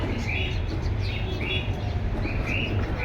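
Pigeons coo softly in repeated calls, including a big red pied male offered for sale, heard under ongoing talk and background bustle.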